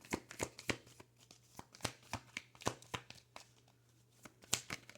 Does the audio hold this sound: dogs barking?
no